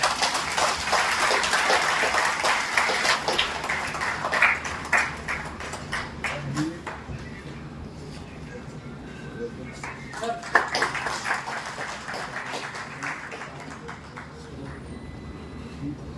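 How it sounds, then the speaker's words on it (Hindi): An audience at a national conference claps for a state president being introduced, a burst of applause that is strongest early, dies away, and returns faintly, with speech over the hall. "इनके लिए एक बार जोरदार तालियां।"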